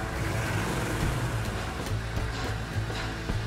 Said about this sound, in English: Give me some gas